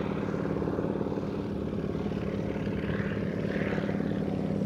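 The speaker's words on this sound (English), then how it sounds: "Just the power of the R985 radial pulling track into the skies over Lakeland." The R985 radial engine of a Franklin Demon 1 biplane drones loud and continuous as the plane climbs during an aerobatic display at Lakeland. The rough engine rumble and propeller roar stay steady throughout.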